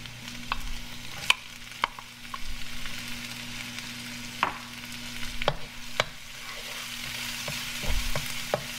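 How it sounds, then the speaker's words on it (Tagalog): Garlic sautés quietly in a pan for beef tacos while other ingredients are stirred in, a soft steady sizzle broken by sharp clinks and scrapes of the utensil against the pan. "Kapag medyo luto na yung bawang, saka natin ihalo yung iba pang mga sangkap."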